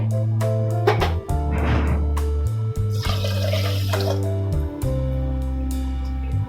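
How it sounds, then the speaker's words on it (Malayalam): Water splashes and gurgles as it is poured into a pot in two short bursts to make gulab jamun syrup, heard under steady background music. "ഇനി ഇതിനകത്തേക്ക് നമുക്ക് അതിനാവശ്യത്തിനുള്ള വെള്ളം ഒഴിക്കാം"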